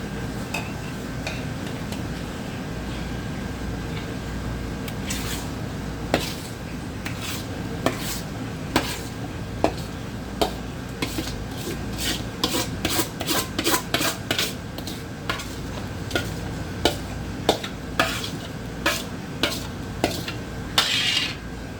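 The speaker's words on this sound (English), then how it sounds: "And then start to mix it all." A large batch of potato salad for a crowd is mixed with dressing in a big bowl: a continuous wet, rasping stir punctuated by frequent sharp clicks and taps of the spoon against the container, growing busier over time.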